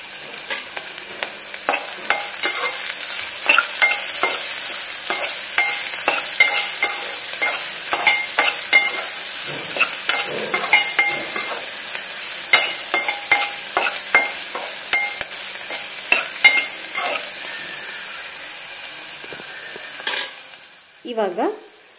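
Food frying in a pan with a little salt added, continuous sizzling under frequent scraping strokes of a spoon stirring, with a couple of clanks near the end.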